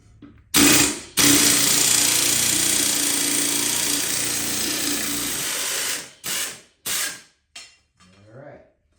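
A 2004 Murray 22-inch self-propelled lawn mower runs: a loud, close, rough engine roar that holds for several seconds, then cuts off and fires again in short sputtering bursts as it struggles to keep running.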